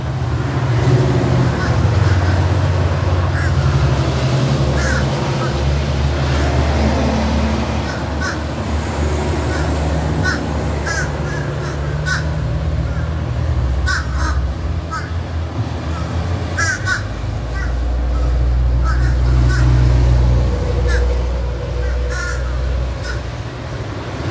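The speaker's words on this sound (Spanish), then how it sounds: "muchos pájaros aquí comiendo comiendo aquí" A flock of crows caws repeatedly while feeding on scraps of meat and bread outdoors, sharp calls scattered over a low rumble of passing traffic, with a person speaking at times.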